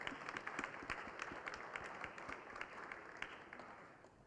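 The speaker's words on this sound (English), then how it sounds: "Please, let's clap for ourselves in the room." Faint, distant applause from a room full of attendees at a medal ceremony, a continuous patter of many hands clapping that softens slightly toward the end.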